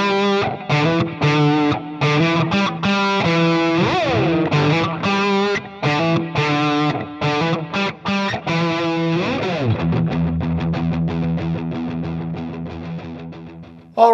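Electric guitar played through the Brit Silver preset on an Axe-Fx, a crunchy British-style amp tone with quick chopped riffs and then ringing sustained notes, loud and alone.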